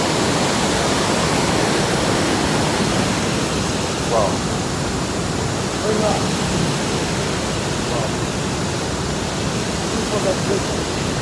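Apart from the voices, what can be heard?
Fourteen Falls waterfall in Kenya, rushing water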